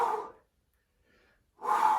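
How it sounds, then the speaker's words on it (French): Heavy, forceful breaths during push-ups at home: two loud close exhales with a silent pause between them, and no talking. "Écoute ma respiration."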